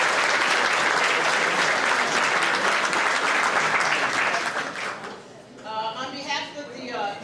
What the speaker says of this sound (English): give yourself a round of applause for getting up 7 o'clock this morning to be here